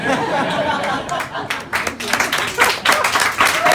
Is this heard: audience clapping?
yes